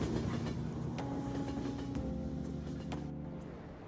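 A train in the Persona 5 video game slows to a stop, with a close, loud rumble of rail cars and scattered metallic clicks that gradually fade and settle toward the end, no voices heard.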